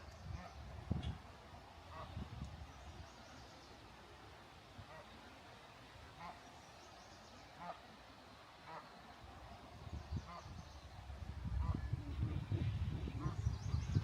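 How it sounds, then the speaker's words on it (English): Canada geese with goslings out on the Alberta prairies, giving scattered faint honks over a quiet outdoor background, with a louder rumbling stretch near the end. "Some cute little baby Canada goslings hanging out."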